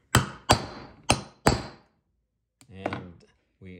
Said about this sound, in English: we're going to take our number two copper rivet setter